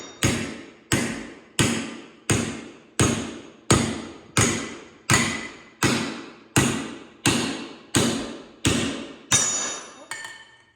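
Twelve heavy hammer blows ring out at an even, steady pace as a metal pipe is forged into a sword, each strike sharp and resonant with a short decaying ring, close and loud, ending with a lighter clatter.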